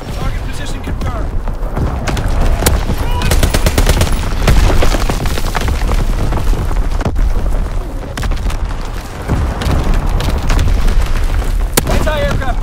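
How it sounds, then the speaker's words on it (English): Division artillery barrage in Call of Duty: WWII, with dense rolling booms and cracking gunfire layered over a low rumble, loud and sustained throughout. "Firing division artillery."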